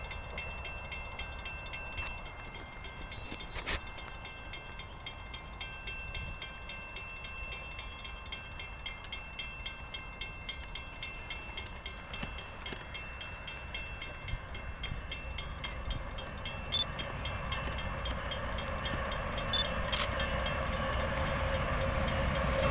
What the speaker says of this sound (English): CP Freight Train, Belleville, Ontario.